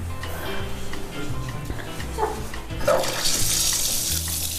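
Water running from a bathtub tap in a hotel bathroom, a steady splashing gush that swells louder partway through, with a voice speaking briefly nearby.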